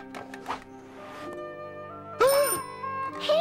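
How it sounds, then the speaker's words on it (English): A toy-like bicycle bell rings clearly in a cartoon scene, a bright ding with ringing overtones after a quieter stretch, and a second ring near the end. "Hey, that's my bike bell."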